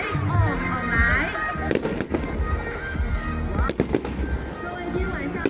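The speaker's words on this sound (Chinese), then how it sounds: "今天晚上搭配的是3D 矩阵烟火。" A 3D matrix fireworks show at the 2023 Nantou Lantern Festival sends out sharp bursts and crackling pops under loud, continuous talk from a voice over an amplified sound system.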